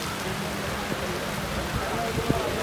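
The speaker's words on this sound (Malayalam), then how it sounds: "ഇപ്പോൾ നല്ല മഴ" Dense, steady hiss of heavy rain pouring down, with a few louder drips and taps.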